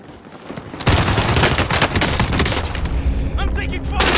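Call of Duty: Modern Warfare match with sustained, dense automatic gunfire erupting after a quiet opening and continuing as close, loud bursts, with a game voice talking over it and a few chirpy electronic effects near the end.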